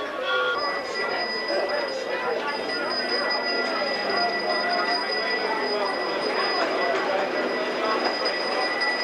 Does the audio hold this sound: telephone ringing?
no